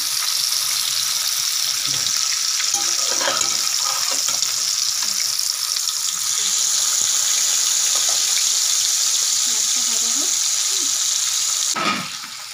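Rohu fish frying in a pan at home, a steady loud sizzle holding throughout with faint clinks and a few brief spoken words underneath, ending with a sharp clatter.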